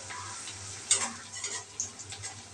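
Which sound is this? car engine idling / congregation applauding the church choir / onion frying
onion frying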